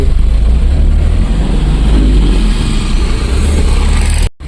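A goods truck pulls onto the highway near Kudal on a run from Goa toward Mumbai. Its engine gives a steady, loud road roar that continues without a break until the recording cuts off abruptly near the end.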